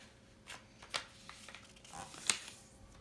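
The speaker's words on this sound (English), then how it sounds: "So I'm going to fold up this one." Origami paper for a frog model is folded by hand, with a few soft, brief crinkles and rustles spread apart, one sharper crease snap near the end, all quiet and close with no talking.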